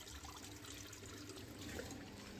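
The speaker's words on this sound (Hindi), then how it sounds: "ये पूरा प्रेशर से ये पानी अभी बाहर आ रहा है" Water draining under pressure from an IFB washing machine through its drain pump, a steady faint rushing and trickling flow throughout with no voices.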